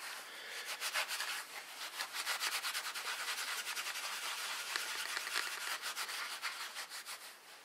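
Cloth buffing dye residue off a piece of leather, a steady brisk rubbing with quick back-and-forth strokes, close and fairly quiet with no talking.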